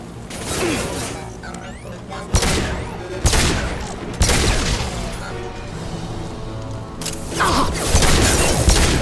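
Weapons fire in the video game Mass Effect 2 as a series of loud, close shots and bursts with sharp booming impacts and mechanical clanks, separated by brief gaps across the stretch, with no talk.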